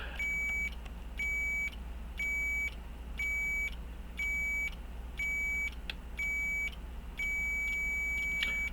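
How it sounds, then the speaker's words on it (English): A high electronic beep repeats at a steady rhythm, about eight short tones ending in a longer one, over a low engine-like hum. "It's gonna get a long beep."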